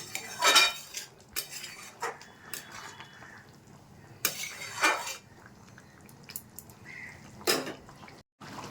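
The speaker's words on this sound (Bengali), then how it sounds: "এবার আমি চিংড়ি মাছটা দিয়ে দিচ্ছি এখানে পাঁচশো গ্রাম মতো চিংড়ি মাছ আছে মিক্স করে দেবো" Prawns stirred into a simmering curry in a metal pot, with scattered spoon clinks and scrapes against the pot in irregular bursts and quiet pauses between, close and fairly soft.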